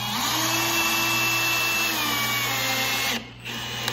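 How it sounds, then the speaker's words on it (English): A power drill drives a screw into a wooden bench, whirring steadily and loudly for about three seconds before stopping abruptly, then starting briefly again. "I'm going to install the screws where it's tight first"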